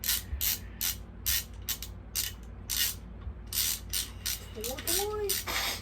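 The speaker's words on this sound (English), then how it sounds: "Now we're going to remove these here motor mounts." A socket ratchet clicks in short, repeated bursts while loosening the motor mounts on a mini bike, with brief pauses between strokes and a faint whistle-like tone near the end.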